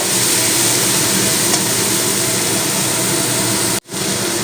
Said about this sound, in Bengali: চিংড়িগুলো এবার আমি একটু নাড়াচাড়া করে ভাজা ভাজা করে নেব